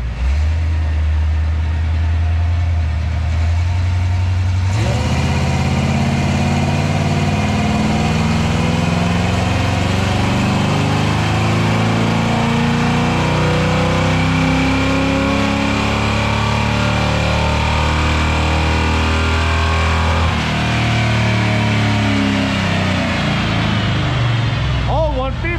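A Honda VTEC-powered car runs on a dyno, idling low before climbing into a loud, sustained high-rpm pull that holds for many seconds and then drops back to a rough idle, with voices in the background.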